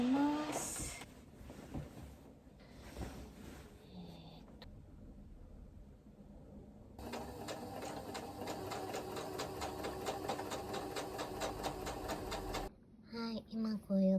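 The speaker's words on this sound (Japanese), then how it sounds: "ワンピースに印をつけてボタンホールを縫っていこうと思います" A sewing machine stitches buttonholes into a dress, running in a long steady whirring burst with a rapid even pulse, preceded by softer handling noises and followed by someone speaking.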